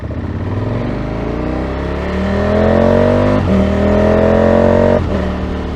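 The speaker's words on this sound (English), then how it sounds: "Many bikes coming." A group of motorcycles, adventure bikes among them, passing close by on a road, their engines rising in pitch and loudness as they approach and sweep past one after another in a sustained roar.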